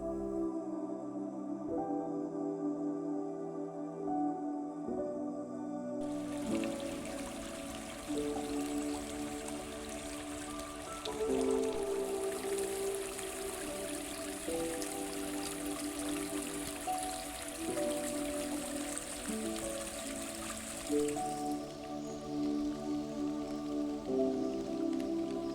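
A forest stream flows steadily beneath soft background music, a broad wash of rushing water that swells partway through and holds.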